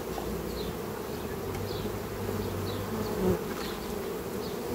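Honey bees buzzing around a hive entrance fitted with an anti-robbing device, a steady close drone with individual bees whizzing past in brief rising passes.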